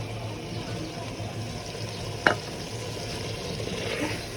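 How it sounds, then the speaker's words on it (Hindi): Chicken pieces frying in a masala base as they are stirred, a low steady sizzle with one brief scrape of the spoon partway through, faint and fairly distant. "अब चिकन को अच्छे से मसाले में भूनेंगे।"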